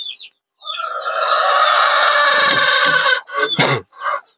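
A single loud rooster crow rings out close by, followed by a few short clucks and squawks.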